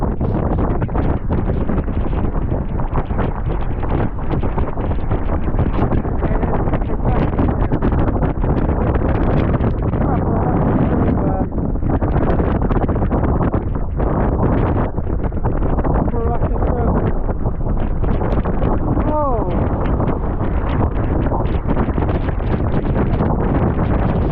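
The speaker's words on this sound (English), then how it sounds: "It was really chucky up there, Jesus, what a wind." Extreme wind roars across the exposed south ridge of Tryfan, battering the microphone with continuous, loud buffeting and gusts for the whole stretch.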